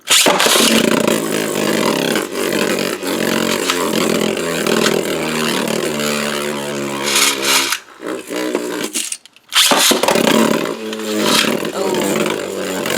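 A left-spinning Beyblade Burst top, launched with a Dual Threat string launcher, gives a loud, steady whirring buzz that drops out briefly near the end and then resumes at full strength.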